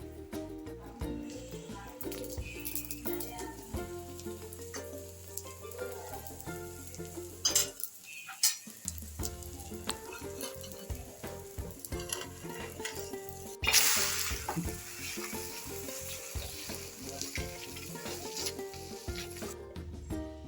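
Oil sizzles steadily in a pan as an egg omelette is fried for a chapati roll, with occasional clinks of utensils and a brief drop in sizzle partway through.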